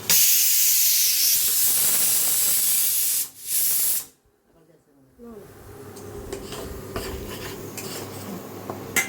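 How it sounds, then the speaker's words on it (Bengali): Hot water poured into a pan of sizzling oil for a quick tomato and onion dish, giving a loud steady hiss and steam burst that cuts out abruptly, then a softer lingering sizzle with light clatter. "এইবার দিয়ে দেবো একটু গরম জল।"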